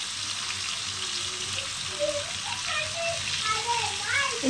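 Fish pieces, including whole small fish and fish steaks coated in spiced masala, fry on a tawa with a steady broadband sizzle, while a voice speaks faintly underneath.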